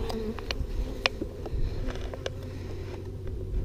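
Honeybees buzz steadily and close up as a hive is opened for an early-season inspection, a dense continuous hum with a few sharper clicks and knocks from the hive woodwork.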